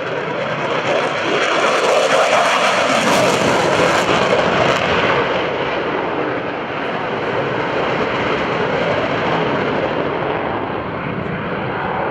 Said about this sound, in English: This is the current iteration of the Air Force's F-16 Fighting Falcon that we call the